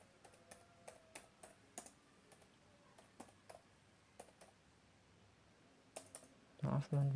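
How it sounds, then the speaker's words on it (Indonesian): Keystrokes on a computer keyboard while typing a heading into a Word document, quiet scattered clicks in an irregular rhythm, ending with a louder burst of sound. "Dan kita ketikkan judulnya di sini."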